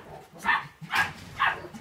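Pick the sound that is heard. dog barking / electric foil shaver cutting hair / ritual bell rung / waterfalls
dog barking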